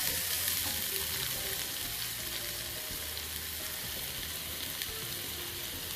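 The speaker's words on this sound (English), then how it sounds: "So I'm just going to cook the onion now till it goes light brown." Onion fries in a pan of oil, giving a steady, dense sizzle that holds at an even level from start to finish, with faint stirring underneath.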